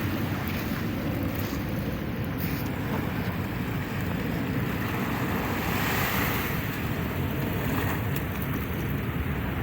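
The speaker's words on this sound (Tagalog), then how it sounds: "Ayan ang ating dagat ngayong umaga." Sea waves of Manila Bay wash and roar continuously up close on a morning after a storm, a broad steady surf noise with wind buffeting the microphone and no one speaking.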